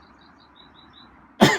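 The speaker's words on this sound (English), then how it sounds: "I had a cough." A single sharp cough bursts out near the end of a quiet stretch, preceded by faint bird chirps in the background.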